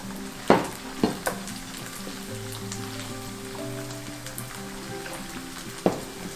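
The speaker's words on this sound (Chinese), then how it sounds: "再来，我们放入茄子跟煮熟的糙米饭一起拌炒。" Eggplant and cooked brown rice being stir-fried together in a pan for vegetarian Taiwanese zhajiang noodle topping, a steady soft sizzle with a few sharp clacks of the spatula scraping and tossing, close and moderately loud, no talking.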